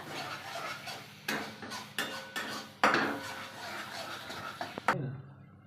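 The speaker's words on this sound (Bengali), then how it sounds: "কষাচ্ছে মশলাটা" Spice masala sautéing in a pan, with a steady close sizzle broken by several sharp clinks and scrapes of a metal spoon against the cookware, ending in one loud clatter.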